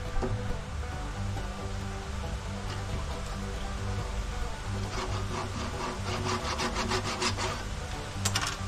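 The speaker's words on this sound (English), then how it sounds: "like most old saws I found around here, they're good for cutting little branch bushes about 1 inch in diameter" An old hand saw rasps back and forth through a small branch about an inch thick, steady close rhythmic wood-cutting strokes throughout.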